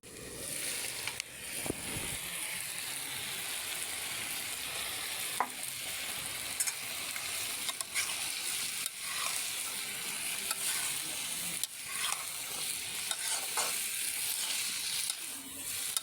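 Carrots, cabbage and tomatoes fry in a hot pan for a vegetable bhaji, a steady close sizzle broken by repeated scraping stirs of a spatula, with no talk.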